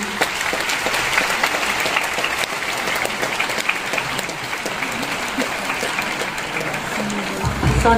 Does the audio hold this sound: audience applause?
yes